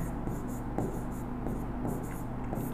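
Chalk or marker scratching on a board during a maths lesson, several short strokes in a quiet room, fairly faint.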